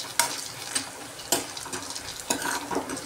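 Roasted vadas tumble into a pan of frying onion, a soft sizzle broken by a few scraping stirs and clatters, fairly quiet with no talking.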